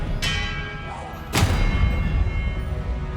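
An Expelliarmus spell is cast in Hogwarts Legacy, a sharp bright crack followed by a second heavier ringing impact and a rumbling tail in the game's combat.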